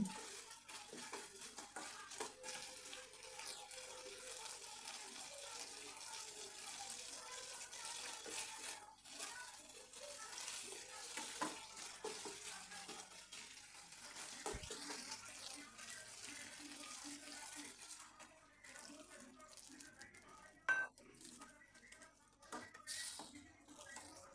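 Hot water poured into a pan of frying fish curry (doi maach) once the oil separates, giving a faint, continuous splashing and bubbling hiss with occasional clinks of utensils.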